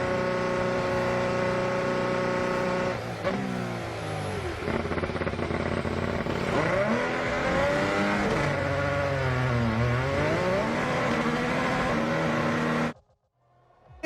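Two Red Bull Formula 1 cars at the Brazilian Grand Prix scream past after a safety car restart, a loud high-pitched engine whine rising and falling in pitch as they pass close, then cutting off abruptly near the end.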